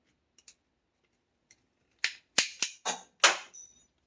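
Wire cutters snip through wiring on a 1992-95 Honda Civic headlight harness: faint clicks, then a quick run of five or six sharp, loud snaps close by, with no talk.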